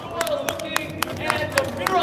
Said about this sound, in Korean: 우리 민계식 대표님께 여러분들 격려의 박수를 한번 보내주시기 바랍니다